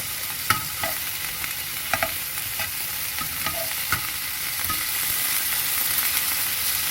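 Beef steak sizzles steadily in a hot pan while it is cooked half-done, with a bright, continuous frying hiss and occasional sharp clicks and scrapes as the meat is turned and stirred.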